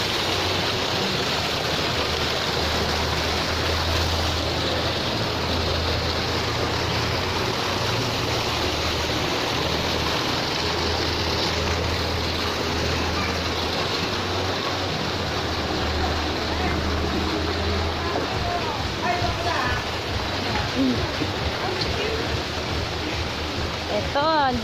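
Water rushing at a waterfall or stream in Thailand, a loud, unbroken broadband roar that fills the whole stretch, with voices faintly talking under it.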